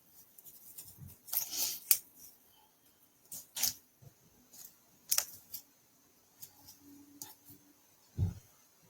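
Scissors slice a sheet of paper in half during card making, a series of crisp snipping and rustling bursts spaced irregularly, quiet and close with soft handling sounds between cuts.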